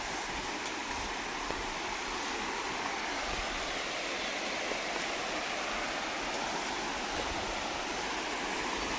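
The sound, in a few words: river stream flowing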